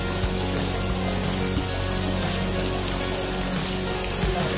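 Heavy rain pours down onto a shed roof at a market, a dense, loud and constant wash of drumming drops with no pauses.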